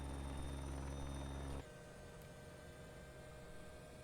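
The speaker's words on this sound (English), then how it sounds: "Hopefully you should hear the sound of the chopper a little bit better now." Helicopter engine in the X-Plane 11 flight simulator game: a loud, steady rotor and turbine drone that drops to a quieter, thinner hum after a moment, continuing without talk.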